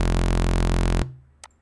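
A dense, buzzing synth tone from the Silent preset with no Devastor distortion, sounding loud and alone for about a second before cutting off abruptly, followed by a faint brief click.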